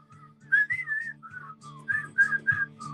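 A person whistles a short melodic tune close up, with clear sliding notes in a lively rhythm over a low steady hum.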